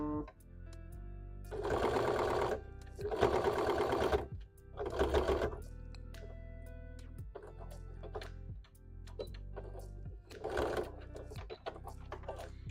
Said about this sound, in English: And then we'll just sew up to this side.